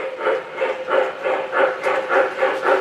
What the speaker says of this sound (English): That's the high-speed trolley there, Matt